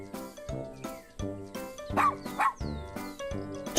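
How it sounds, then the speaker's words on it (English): A dog barks repeatedly in short, sharp bursts, some with yipping whimpers between, close and fairly loud with no talk over it. "It's a dog."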